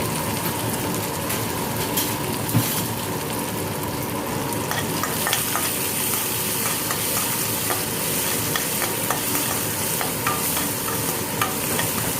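Potatoes sautéing in oil with curry leaves, cumin and chili for a dry cauliflower-potato bhaji, a loud steady sizzle broken by frequent scraping stirs of a spatula against the pan, with no voices.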